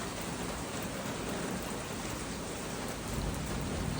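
Heavy rain pours steadily during a thunderstorm in Lubbock, a dense, even hiss of drops on surfaces around a house with trees, continuous and close with no voices.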